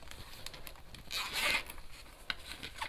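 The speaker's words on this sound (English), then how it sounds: "Let's check out this zipper, shall we?" A zipper is pulled open on a bag pocket, a faint close-up rasp that swells into one longer zip, followed by a few small clicks and rustles with no talking.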